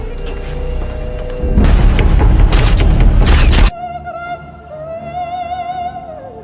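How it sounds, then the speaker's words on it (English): A loud burst of booming, crackling gunshots fired in a hospital room in a rapid cluster, then cuts off abruptly to quieter tonal background sounds. "Hearing the gunshots"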